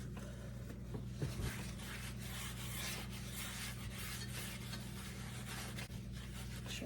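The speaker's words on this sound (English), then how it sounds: "But I'm gonna grease this really well, up the sides too." A paper towel smeared with butter-flavored Crisco rubs around the bottom and up the sides of a cake pan, a steady soft scraping and rasping that continues alone and close throughout.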